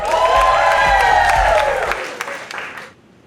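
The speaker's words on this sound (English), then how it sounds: "Clap it up for us, all right? Clap it up for Bobby." A comedy club audience claps and cheers for comedian Bobby in a loud, close burst of applause that fades out over the final second, leaving near silence.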